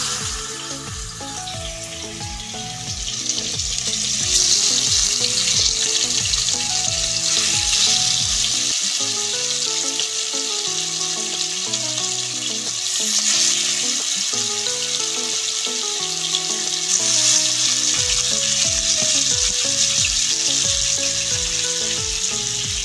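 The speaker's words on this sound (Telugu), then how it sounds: "ఇప్పుడు చేప ముక్కలు వేసుకొని ఎర్రడాలుగా వేపుకున్నాం" Fish pieces frying in hot oil for a sorrel-leaf fish curry, a continuous loud sizzle that swells and settles, with music playing underneath and no speech.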